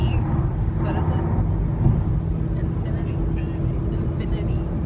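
An Infiniti car cruises along a highway toward Old Route 66, a steady low interior road rumble and engine hum, with a voice talking over it.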